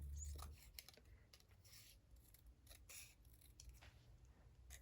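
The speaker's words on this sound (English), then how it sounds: "I'm just going to cut it with my scissors." Scissors cutting a strip of scrap paper for layered file-tab embellishments, heard as faint crisp snips in a quiet room with no talking.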